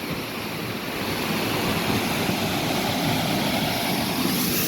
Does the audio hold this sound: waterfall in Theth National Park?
yes